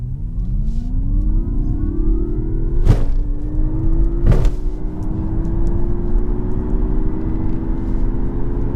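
A Mazda MX-30 electric car accelerating up an on-ramp plays a synthetic engine tone that rises smoothly in pitch with speed, steady and fairly loud, with two brief sharp bumps along the way.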